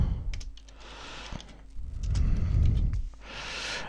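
Quick keystrokes clatter on a computer keyboard while text is typed into Photoshop, a close, steady run of clicks with brief pauses between bursts.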